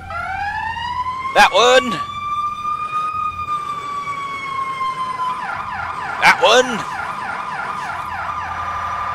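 Emergency vehicle siren horns in the EmergeNYC video game: a rising wail sweeps upward and holds steady, then gives way to a fast warbling yelp. Two short bursts of talk break in over the siren.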